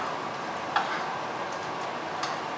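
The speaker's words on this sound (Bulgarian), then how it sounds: "Маслото вече си е пуснало, мащерката си е пуснала своите аромати, маслото се разтапя" Butter melts and sizzles with thyme in a pan while a rib eye steak cooks, giving a steady close frying hiss with a few sharp pops and ticks.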